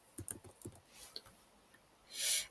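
Brief soft bursts of keys typed on a computer keyboard, a few quick clicks close by, then a short louder rustle.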